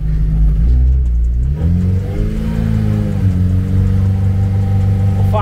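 An old Volkswagen pickup's engine revs loud and close during clutch control, pitch rising and falling as the throttle is worked, with a brief dip midway and no speech.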